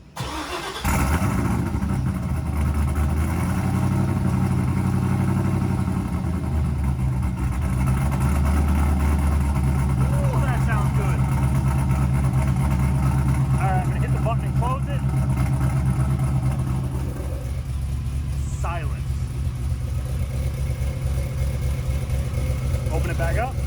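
A car engine with its 4-inch exhaust cutout open cranks and fires, then settles into a loud, steady, throbbing idle that continues throughout, with a voice faintly audible at times.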